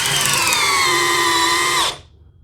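Milwaukee M12 subcompact drill running at speed 2 drives a 3-inch screw, a steady close whirring motor that holds for about two seconds, then stops abruptly, leaving near silence.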